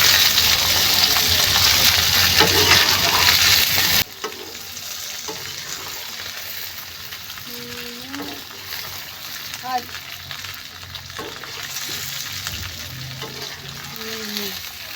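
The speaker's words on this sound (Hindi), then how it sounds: "ये हो चुका है हमारा ऑयल गरम। तो इसके अंदर हमने डालनी है भिंडी।" Okra (bhindi) frying in hot oil: a loud, dense sizzle for about four seconds drops abruptly to a quieter, steady frying hiss with scattered pops and faint background sounds.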